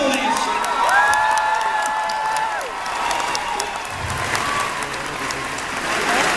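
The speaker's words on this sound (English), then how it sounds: "Big round of applause." Audience applause and cheering fill a convention hall during a Comic Con celebrity panel in Philadelphia, a steady loud ovation with scattered whoops lasting throughout.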